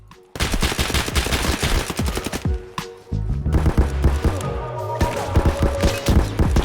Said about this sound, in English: Wasted all of his shots on the rock.